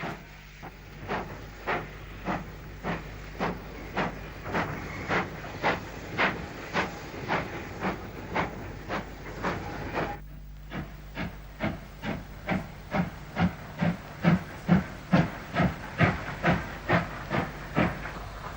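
An LMS 4F 0-6-0 steam locomotive, number 44395, sets its train back into junction sidings, giving a steady run of rhythmic exhaust chuffs and hissing steam that briefly pause then quicken, heard nearby without voices.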